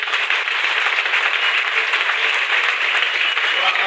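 A church congregation applauding the Lord with dense, sustained clapping that stays loud and even throughout, mixed with voices in the crowd.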